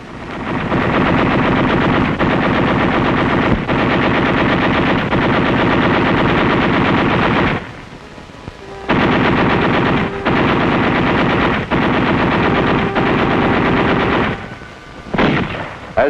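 Marines firing machine guns at an enemy patrol in the suburbs of Naha, loud sustained automatic bursts with two brief pauses, close and dense, no voices.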